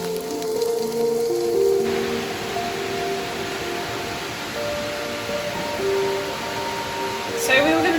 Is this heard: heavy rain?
yes